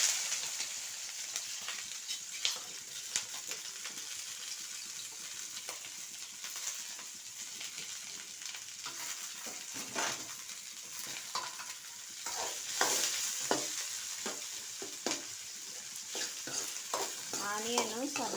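Vegetables for street-style veg fried rice sizzle steadily in hot oil while a utensil stirs and scrapes the pan with repeated clinks and knocks, all close and continuous.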